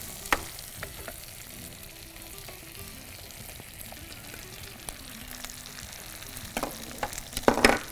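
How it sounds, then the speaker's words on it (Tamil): Eggplant sautés with onions and green chillies in a hot pan, giving a steady oily sizzle and crackle with occasional sharper pops and utensil clicks, strongest toward the end. "போட்டு நல்லா இந்த கலர் மாறுறது நல்லா வதக்கணும்."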